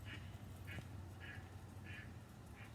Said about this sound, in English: Oh my gosh, there's a duck or a goose.